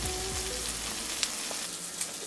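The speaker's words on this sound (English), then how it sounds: "Listen to them sizzle away." Ground patties fry in a pan with a steady, bright sizzle and crackle that stays close and even, with a few sharper pops and no talking.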